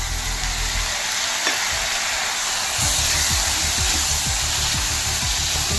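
Spring onion greens fry with soaked moong dal in a pan, a loud continuous sizzle with rhythmic scraping strokes of a spoon stirring, close by and without talk.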